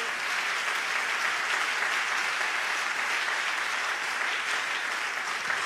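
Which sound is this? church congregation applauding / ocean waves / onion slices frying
church congregation applauding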